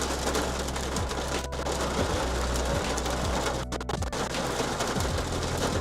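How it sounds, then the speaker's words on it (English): Heavy rain falls in a steady, dense hiss on surfaces nearby, continuous and fairly loud throughout, with occasional faint low cooing in the background. "the rain is coming down hard"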